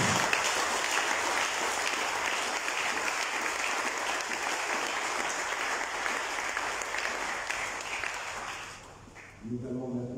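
A conference audience at a seminar applauds the panel, sustained and steady clapping from a full room that swells evenly, then tapers off near the end as a voice begins to speak.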